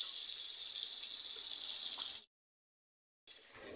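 Water poured into a pan of fried potatoes seasoned with chili powder and salt, making a steady rushing hiss that stops abruptly, goes silent for about a second, then starts again.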